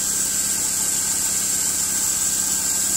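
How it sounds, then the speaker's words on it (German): A BMW M43 four-cylinder engine with a leaking oil filter housing idles steadily nearby, with a constant mechanical hum and a thin high whine and no voices. "Ich habe die Karre jetzt mal laufen lassen."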